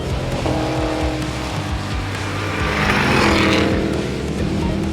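Cadillac Escalade V and Dodge Durango Hellcat launching side by side in a drag race, engines roaring loud and steady with rising revs and brief tire squeal throughout, close to the car.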